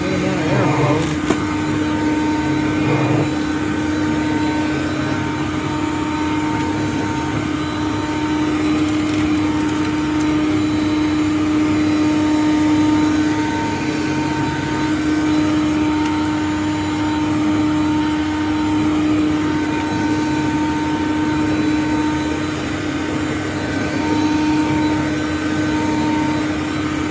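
A Hoover Conquest upright vacuum cleaner runs continuously, a loud steady motor whine and airflow roar with a constant tonal hum, close to the microphone, with no talk over it.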